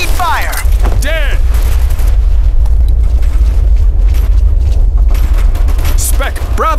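Gunfire rings out in the military shooter Operation Flashpoint Red River, dense bursts and deep booms rolling over heavy low rumble, loud and sustained, with radio-style voices breaking in briefly.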